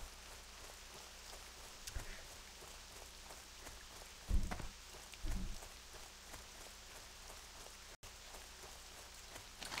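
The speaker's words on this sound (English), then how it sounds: "It's like pouring rain out here" Pouring rain in World of Warcraft Classic, a steady hiss of rainfall on surfaces with a few soft footstep-like thumps from a running character, fairly quiet and without talk.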